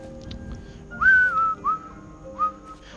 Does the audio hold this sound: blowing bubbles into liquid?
no